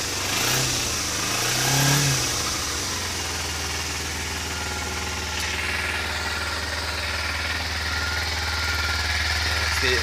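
Kawasaki Ninja motorcycle engine with the choke on, a steady low idle that swells into a short rev near the start, then settles back into a continuous close, rumbling drone.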